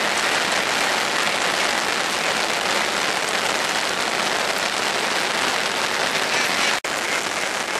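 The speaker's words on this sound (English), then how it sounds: "I don't know where that rain came from" Heavy rain pours steadily onto a riverbank at the middle Severn during a sudden storm, a dense, even hiss that fills the whole stretch with no letup.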